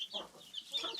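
Hens cluck softly near their chicks and eggs in a backyard coop: a few short, close, bright clucks in quick succession, fairly quiet, with no one speaking.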